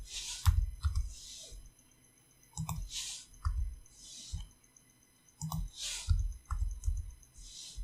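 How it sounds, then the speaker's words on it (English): Computer keyboard arrow keys tapped in short bursts, small crisp clicks grouped in twos and threes with brief gaps, moderately close in a quiet room. "I can use the arrow keys to nudge these over a little bit."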